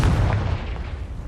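A fiery Confringo spell blast in Hogwarts Legacy, a loud, deep booming explosion that bursts at once and rolls off into a rumbling decay, heard alone without talk.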